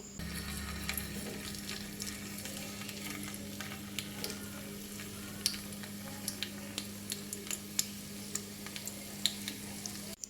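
Hair oil with added ingredients heats on low in a pan, giving a steady quiet bubbling sizzle with scattered small pops and clicks, alone without talk.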